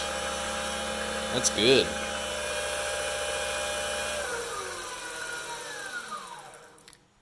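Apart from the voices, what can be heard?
PM-728VT milling machine spindle running at full speed, 4300 RPM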